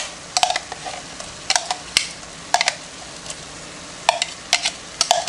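Diced medium onion sizzling and crackling in a Dutch oven, with intermittent sharp clicks and scrapes of stirring scattered over a steady hiss, close and fairly loud.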